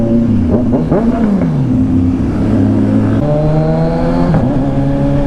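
A car engine revs loudly and continuously, its pitch rising and falling through several throttle blips, close by with no talking.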